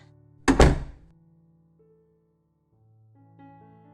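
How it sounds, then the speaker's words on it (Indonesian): A door is slammed shut hard, giving a single heavy thud with a brief rattle, followed by quiet soft background music. "Siska menutup pintu dengan kencang."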